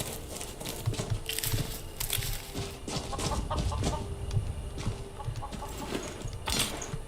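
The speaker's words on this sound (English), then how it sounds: "And this chicken's cozying up to the corpse here." A chicken in Skyrim clucks softly and intermittently over a busy outdoor game ambience of rustling and wind, with scattered short sharp peeps.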